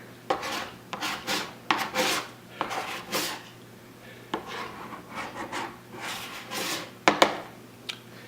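A plastic scraper rasps hardened wax off a snowboard base in repeated scraping strokes, close and fairly loud, with short pauses between strokes and no voices.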